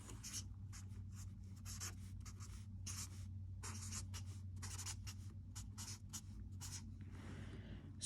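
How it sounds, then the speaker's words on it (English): Marker or chalk writing out a vector's numbers on a board, close and steady, with short scratchy strokes coming in quick bursts and brief pauses between them, no voices over it. "So I'll write that down."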